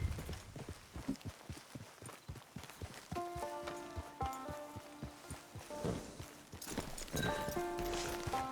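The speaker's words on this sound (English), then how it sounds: "Get your horse." Horse hooves clip-clop at a steady gallop in Red Dead Redemption 2 Online, giving way to in-game music tones; no clear neigh stands out.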